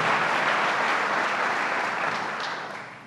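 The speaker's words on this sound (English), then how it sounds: "Give them a round of applause." A crowd applauds steadily at the grand opening of a lakeside tourism welcome center, dense clapping that holds loud and then fades slightly toward the end.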